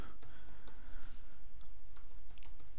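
Typing code into Dreamweaver on a computer keyboard while building an EaselJS game: a steady run of light, scattered key clicks over a low room hum, with no voice.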